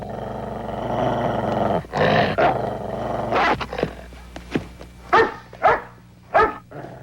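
Guard dogs growl steadily at close range, breaking into several sharp, loud barks toward the end.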